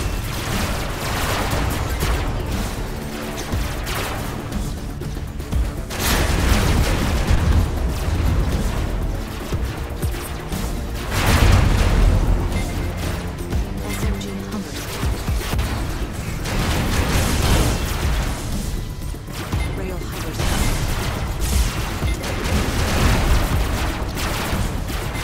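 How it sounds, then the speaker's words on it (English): Heavy plasma gun fire from a megabot in the robot combat game Robocraft, repeated loud booming bursts in waves with rumbling explosions and mechanical noise in between, continuing steadily throughout. "I like the burst of the plasma gun"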